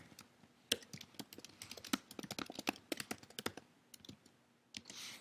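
Close, steady typing on a computer keyboard, with rapid uneven keystroke clicks in quick bursts and brief pauses, and no voice over it.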